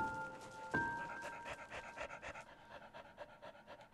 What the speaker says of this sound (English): gets a little tired. You hear him panting.